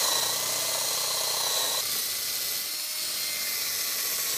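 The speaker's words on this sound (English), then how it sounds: "now we need to drill holes from the inside of the legs and countersink them" A power drill whines at high speed, its motor pitch dropping briefly as it bites into wooden table legs, then running on steadily.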